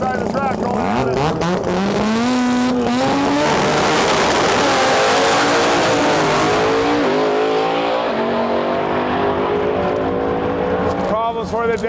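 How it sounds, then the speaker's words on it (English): Drag racing cars, a rotary gas car and a nitrous Chevrolet Nova, roar down the track at a World Cup Finals qualifying event, with loud sustained engine wail rising through the gears under an announcer's voice. "got a rotary gas in and a nitrous nova far side of the track going on it"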